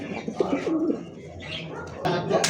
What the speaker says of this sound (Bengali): ব্লু বার এক জোড়া কবুতর আছে মাশাআল্লাহ